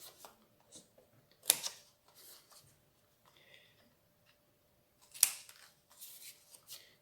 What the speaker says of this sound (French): Ça, je vais le couper.